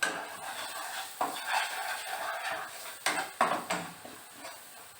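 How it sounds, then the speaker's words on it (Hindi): Spoon stirring spices in a pan for egg masala curry, with scraping and clattering strokes against the metal, a few louder knocks over a soft continuous hiss. "अभी सभी मसालों को अच्छे से मिक्स कर लेना है।"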